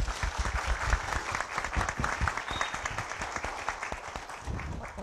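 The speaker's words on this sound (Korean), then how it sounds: "다양한 말씀 해주신 네 분께 여러분 큰 박수 다시 한번 부탁드리겠습니다" Applause from a concert audience at a talk concert on intellectual property, thanking four speakers: dense, steady clapping from a large crowd fills the whole stretch at an even level, with a faint whistle briefly rising above it.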